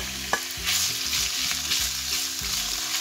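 White fish cubes fry in a pan with a loud, even sizzle and crackle, stirred throughout, while a low rhythmic hum runs steadily underneath.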